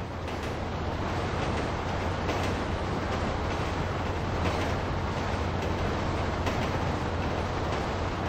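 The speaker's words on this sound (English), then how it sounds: "Train ain't stopping here, boys!" A train rolls past in Grand Theft Auto V near a bridge and station, a loud, continuous rumbling roar with a steady low drone throughout and no pause or voices.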